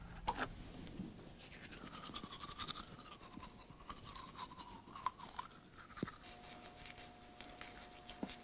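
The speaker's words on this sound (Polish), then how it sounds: "Tak się właśnie myje zęby, Dorotko." Teeth brushed with a toothbrush and a little paste, a close, steady scratchy scrubbing with quick back-and-forth strokes that runs for about eight seconds, joined by faint whistling tones and one sharp click partway through.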